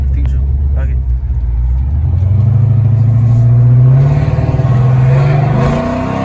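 A cammed 5.7-litre Dodge Charger accelerates hard onto a highway, its loud, lopey engine note climbing steadily in pitch and rumbling close by.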